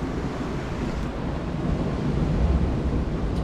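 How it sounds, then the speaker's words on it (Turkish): Sea surf on a shore, a steady broad wash of waves that swells slightly louder toward the end, mixed with wind rumble and no talk. "Bak geliyor dalga."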